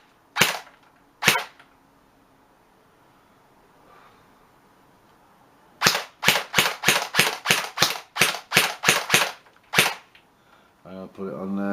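Airsoft gun with a laser sight fires a couple of sharp single shots, then a fast string of about a dozen loud snapping shots on fully automatic, followed by a rattling mechanical whir.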